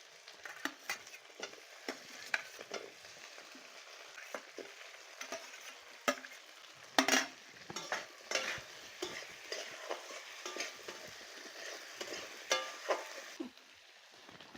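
Fried white yam pieces are stirred into sizzling spice masala for a duck egg curry, with a quiet frying hiss under repeated scraping and clinking stirring strokes, including one sharper knock partway through.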